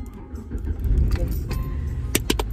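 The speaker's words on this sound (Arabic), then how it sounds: "اول شيء راح يكون المفتاح، هذا المفتاح، ايوه مفتاح السيارة" Car keys jangle inside a car, with a few sharp metallic clinks near the end over a steady low cabin rumble and faint background voices.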